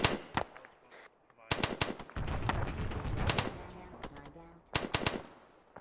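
Gunfire in a military video game, with sharp single shots and rapid machine-gun bursts in uneven clusters and a noisy battle din between them, fairly close.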